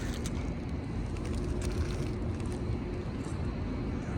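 Yozma IN10 electric bike motor spinning at full throttle with no load, a steady sustained whine and whir that stays loud and even throughout, with no talk over it.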